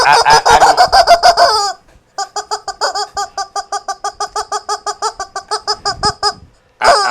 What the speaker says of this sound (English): this little chicken